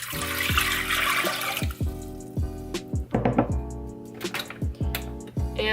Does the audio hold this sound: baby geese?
no